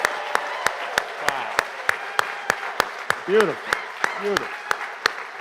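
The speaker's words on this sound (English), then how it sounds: "let's give these young folks a big round of applause" A church congregation at a Coming of Age Sunday service claps for young people. The sharp, evenly spaced claps stand out clearly, and a voice exclaims over them.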